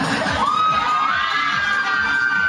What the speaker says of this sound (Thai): คุณจันทนาครับ ชอบจังเลยเสียงกรี๊ดงานไม่ธรรมดาจริง